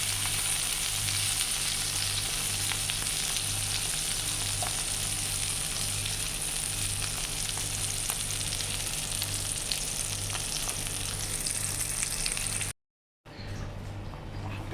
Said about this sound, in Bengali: এই যে মাছ ভাজছি না